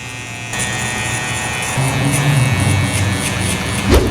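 Electric hair clippers buzz steadily and close while debulking hair during a low fade haircut, and the pitch shifts slightly as they move through the hair.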